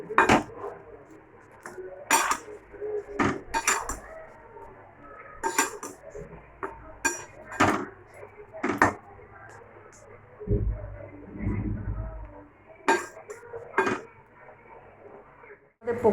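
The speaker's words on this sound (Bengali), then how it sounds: "বারবার করে নাড়তে হবে," Potatoes being stirred in a pan bring repeated sharp metallic clinks and scrapes of a utensil against the pan, close and irregular, with quieter sizzling and a brief low rumble in between.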